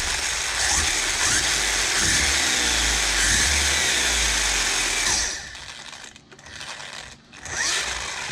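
Small cheap RC car motor spinning under throttle, a loud steady whirring drone for about five seconds, then dropping to quieter, uneven bursts as the throttle eases off and on.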